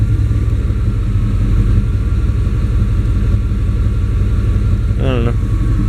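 An 88-98 Chevy truck engine runs rough in a steady, close, low drone that fills the whole stretch, with a short rising whine near the end.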